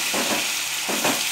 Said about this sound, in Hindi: अब मैं इसमें डाल दूँगी जो मैंने टमाटर बारीक कट करके रखे थे, इसे अच्छे से मैं मिला देती हूँ।